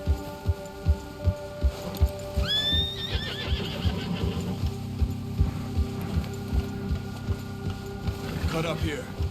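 A horse in Red Dead Redemption 2 gives a loud, shrill whinny over steady clip-clop hoofbeats and a low humming backdrop, with a second shorter whinny near the end.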